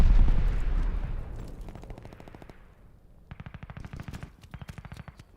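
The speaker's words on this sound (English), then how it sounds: "Incendiary rounds coming in clutch." An MG42 machine gun firing incendiary rounds in Call of Duty: Vanguard: a heavy, fading boom opens, followed by several rapid, rattling bursts of automatic fire at close range.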